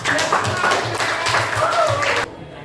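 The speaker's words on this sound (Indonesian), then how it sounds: "Berikan tepuk tangan dulu untuk" A classroom of student teachers claps for a group heading up to present their work, a dense, steady round of hand claps close by that stops abruptly near the end, with voices murmuring underneath.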